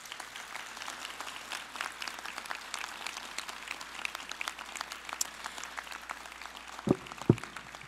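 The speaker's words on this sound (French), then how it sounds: "On les applaudit, s'il vous plaît." Applause at a university graduation ceremony, sustained clapping from a seated audience that carries steadily through the hall, with a couple of sharper knocks near the end.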